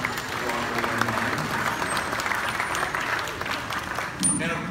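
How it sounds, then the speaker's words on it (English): A school audience applauds alumni seated in the front row at a National Junior Honor Society evening, steady dense clapping filling the room throughout, with a brief swell near the end. "Round of applause for some Walker alumni."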